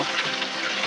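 Milk poured into a pan of simmering egg rezala gravy with coriander powder, yogurt and nut paste, a steady close liquid splash and sizzle running evenly throughout.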